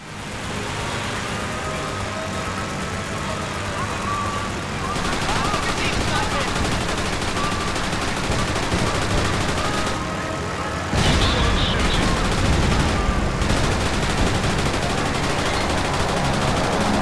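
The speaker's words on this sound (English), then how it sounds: "Machine guns can take them out." Aircraft machine gun fire in the World War II flight game Blazing Angels: long, dense bursts of rapid gunfire over a constant engine drone, with louder, closer bursts toward the end and speech mixed in.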